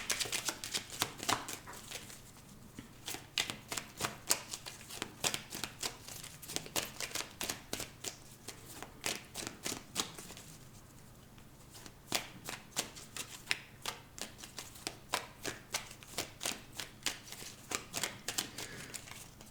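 Tarot cards shuffled by hand, a long run of quick crisp riffling flicks in steady bursts, close and fairly quiet with a low hum underneath and no talking.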